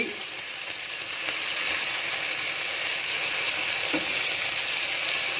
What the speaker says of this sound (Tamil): கத்திரிக்காய் இதையும் சேர்த்து நல்லா வதக்கிக்கிங்க